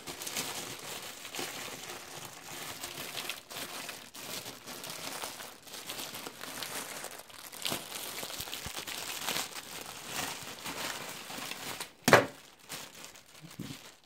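A small plastic accessory bag from a Samsung curved gaming monitor box crinkles and rustles steadily up close, ending with one sharp tearing rip.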